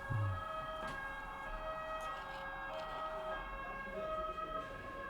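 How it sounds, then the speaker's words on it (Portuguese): An ambulance siren wails as it passes at a distance, a faint wavering tone rising and falling over low street traffic, with no talking. "E tá passando uma ambulância aqui."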